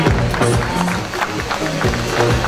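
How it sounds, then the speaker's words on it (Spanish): A race crowd claps and cheers for runners in the women's veterans 10 km category. The applause is steady and dense throughout, with a few sharper claps standing out, and it plays under a muffled announcer voice and a faint background rumble. "Fuerte el aplauso para esta categoría."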